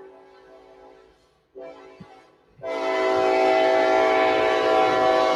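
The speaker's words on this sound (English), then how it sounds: "I do live right next to a train crossing" A train passes a level crossing next to a home, its horn sounding loud and close in sustained blasts that swell after a short pause, with rail rumble beneath.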